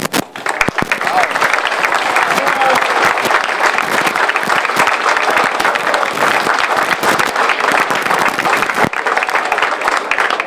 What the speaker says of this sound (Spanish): Que se escuche ese aplauso